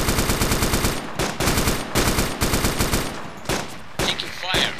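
Sustained bursts of automatic machine-gun fire from a realistic war video game, loud and close, in rapid rattling volleys broken by brief pauses, with no talk over it.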